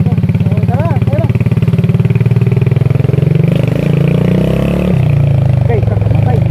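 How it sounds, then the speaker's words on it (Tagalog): An old, beat-up motorcycle engine running close by with a rapid throbbing idle that shifts pitch slightly as it revs, while people talk over it. "Kahit na ganito lang yung kapangit na motor, restrado pa rin ito."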